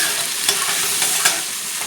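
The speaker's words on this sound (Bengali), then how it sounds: "এখন চিংড়ি মাছটা আমি সুন্দর করে ভাজা করে নেব।" Prawns fry loudly in a pan in a constant close sizzle, broken by two sharp stirring scrapes.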